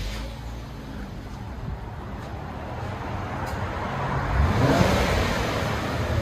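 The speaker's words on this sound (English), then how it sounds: "Infiniti Q50S all-wheel drive. This is what it sounds like before." Infiniti Q50S all-wheel drive car on its stock exhaust, a fairly quiet engine hum that swells as it revs near the end, with faint outdoor road noise around it.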